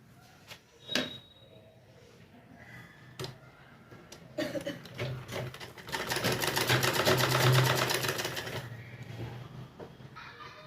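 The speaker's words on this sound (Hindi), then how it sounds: "इस तरह से हम यहाँ से इसकी सिलाई कर लेंगे" A sewing machine joins the front and back parts of a ladies' pajama pant. After a few soft handling clicks and taps, a fairly quiet run of rapid stitching builds and then stops.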